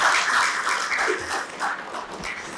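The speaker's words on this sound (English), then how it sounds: "I think we should keep the applause going through the evening" An audience at an architecture and interiors design debate event in Ahmedabad claps together, a full, continuous wash of applause that stays loud throughout with slight swells and dips.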